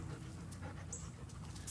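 A dog pants steadily and softly at close range through a quiet, noisy room, with a faint high squeak partway through.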